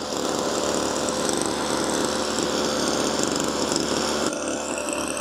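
A small FCR-062II brush cutter engine, an old-looking grass trimmer, runs steadily at idle after starting, a loud, buzzy two-stroke drone close by with a slight shift near the end.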